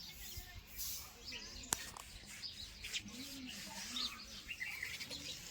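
Faint, scattered sparrow chirps come and go as the birds feed, against a steady outdoor background hum, with some low murmuring voices nearby.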